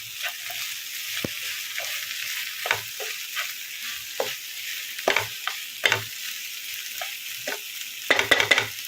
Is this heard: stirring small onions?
yes